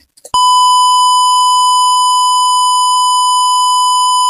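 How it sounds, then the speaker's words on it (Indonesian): A buzzer on an Arduino Uno gas leak detector with an MQ2 sensor sounds a sudden, loud, continuous high-pitched electronic tone that holds steadily without pause. "jika gasnya itu lebih dari 400, maka buzzer dan lampu LED akan berbunyi"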